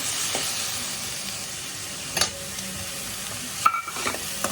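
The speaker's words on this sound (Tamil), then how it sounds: "இப்போ தக்காளியை சேர்த்துறேன்" Tomatoes go into a pan of frying ginger and garlic for mutton kulambu, giving a steady, close sizzle with a few sharp scrapes and clinks of a spoon against the pan.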